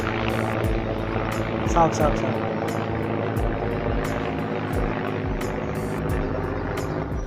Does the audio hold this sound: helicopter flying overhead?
yes